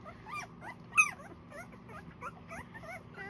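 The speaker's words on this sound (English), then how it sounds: "Puppies today are 12 days old." Twelve-day-old newborn puppies whimper and squeal in a quick run of thin, rising and falling cries, close and fairly soft, with one sharper yelp standing out over a low steady hum.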